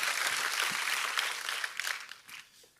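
A church congregation claps for the praise and worship team, a dense burst of applause that stays loud for about two seconds, then thins into scattered claps and fades out.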